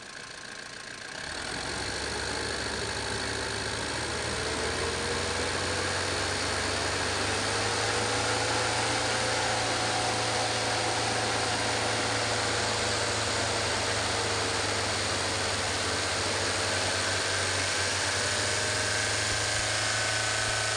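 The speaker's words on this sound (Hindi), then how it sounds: "रेस करो।" Steady engine note from a Mahindra Bolero Camper BS-6 during an oil service, held at a raised, roughly constant pitch for about twenty seconds after a quiet start, close and continuous with no talk.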